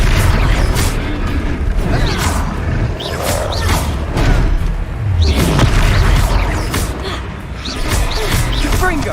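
Fire-spell blasts from Confringo in the video game Hogwarts Legacy: loud, dense booming bursts and whooshing impacts repeat through heavy battle noise, with a voice heard at moments.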